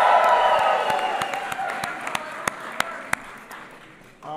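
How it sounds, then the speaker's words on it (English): A crowd at an LGBT Pride Month event applauds and cheers, loud at first, then thinning out into scattered single claps before a voice starts to speak. "Give Nancy a big round of applause"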